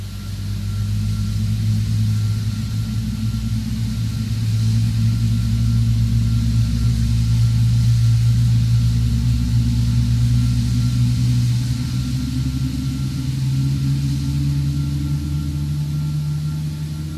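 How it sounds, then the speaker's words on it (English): Boeing 777-200 jet engines in the X-Plane 12 flight simulator give a loud, steady low rumble with a sustained hum that slowly rises in pitch, running continuously with no talk. "I just want to listen to the engine sounds."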